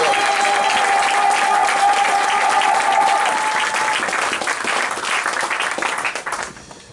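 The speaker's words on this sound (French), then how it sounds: "Applaudissons pour le Seigneur Jésus-Christ." A church congregation applauds in praise during a sermon, loud dense clapping from many hands that holds steady for several seconds, then thins and fades away near the end.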